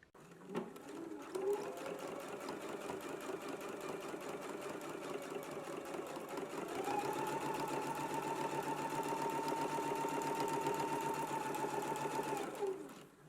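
A sewing machine top-stitches a flat felled seam, running as one loud, continuous, close-up whir for about twelve seconds. Its pitch steps up slightly midway, with no voices.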